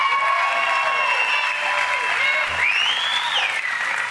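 Sustained applause and cheering from a large crowd at a Texas political rally, loud and continuous throughout, with whistles rising above the clapping.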